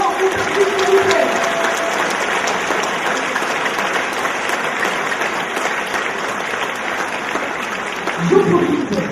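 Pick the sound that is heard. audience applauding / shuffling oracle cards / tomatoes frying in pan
audience applauding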